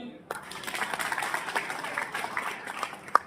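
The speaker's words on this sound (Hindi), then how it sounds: "तो फिर बजाओ ताली" A seated audience of party workers claps at a political gathering, a diffuse patter of many hands under a reverberant hall ambience, fairly faint, with a few sharper claps standing out.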